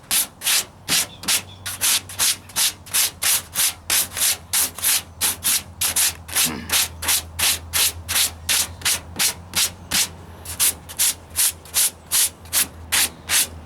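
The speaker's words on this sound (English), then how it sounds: "Use a good grit, 36 grit, 40 grit sandpaper. Cuts your sanding time down really, really fast" Coarse 36–40 grit sandpaper on a foam block scrubs body filler on the driver's side wheel arch of a 1998 Ford Ranger, a steady close rhythm of about thirty quick back-and-forth rasping strokes with a low hum underneath.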